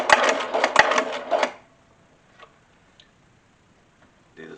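Sewing machine stitching a leather lanyard phone case trimmed with alligator hide: a short, close, rapid mechanical chatter of a few stitches that stops abruptly, then faint clicks and handling noise.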